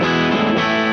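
An electric guitar with a Cloud 9 humbucker pickup plays a single sustained chord through an overdriven amp, loud and saturated, ringing for about a second before it cuts off.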